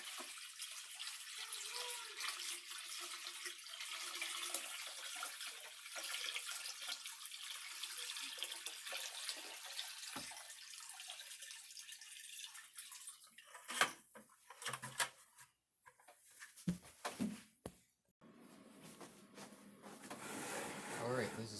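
Water poured from buckets into an aquarium tank, a steady broadband gush for the first half that breaks into irregular splashes and sloshes toward the end, close and fairly loud.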